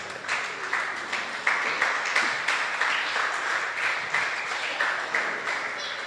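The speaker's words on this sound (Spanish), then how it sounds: "Dale un aplauso al Señor." Congregation applause at a church service, a room of people clapping in a loose rhythmic pulse with individual claps standing out, moderately quiet and continuous.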